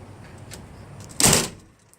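A single solid thunk as the door of a 1958 Edsel Corsair is pushed shut, a close, loud burst that fades quickly after faint rattles, with no one speaking.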